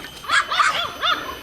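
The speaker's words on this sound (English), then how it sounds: "A dog. Dogs means people, I think." A dog on a trail near Ipoh, Malaysia barks in a quick series of four or so sharp, yappy barks, close and clear with no talk.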